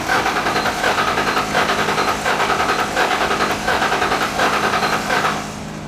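An old, long-neglected Ford Mustang GT engine runs loud and close with a rough, pulsing rumble that holds steady, then drops slightly near the end.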